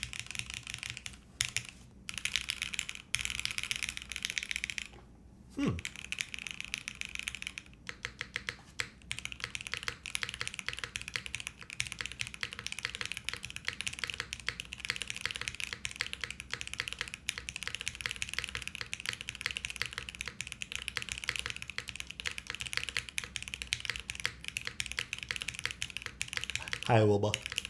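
Steady typing on a plateless, PCB-mounted leaf-spring 60% keyboard with GMK keycaps, a dense run of close, crisp keystroke clacks with brief pauses and a few louder thumps; a voice talks at moments.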